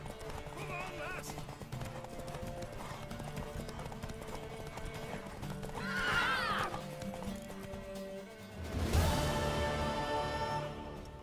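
A mare in The Witcher 3 video game whinnies and clip-clops over steady ambient sound, with a shrill neigh in the middle and a louder burst of hooves near the end.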